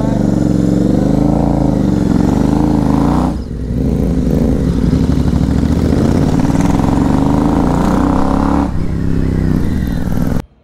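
A new Royal Enfield Super Meteor motorcycle idles and revs close by, a loud, steady, throbbing engine note that dips briefly partway through and cuts off at the end.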